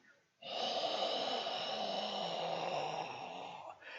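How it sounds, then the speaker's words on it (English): One long, slow exhale through the nose or mouth, close and soft, that holds evenly for about three seconds and then tapers off. "This goes slowly. And I'm exhaling."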